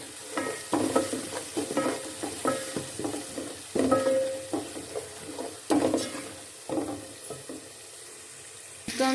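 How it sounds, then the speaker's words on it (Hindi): Ground cumin and Kashmiri chilli frying in a pot for palak gosht, stirred with repeated scraping strokes in an irregular rhythm over a steady sizzle, close and fairly loud. "इसको हमने अच्छे से भून लिया।"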